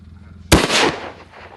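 A single loud gunshot cracks during a duck hunt, then its broadband blast trails off into a rumbling echo over about a second against a quiet outdoor background.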